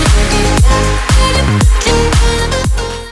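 Mixed, fat-sounding drums: a loud, punchy kit with deep booming kicks and cracking snares in a steady groove, cymbals ringing over the top, with no voices.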